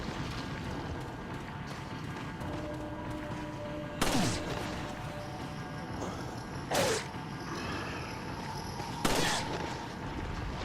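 Three widely spaced shotgun blasts in the video game Resident Evil 4, each a sharp loud boom over a low ambient game background, heard alone without talk.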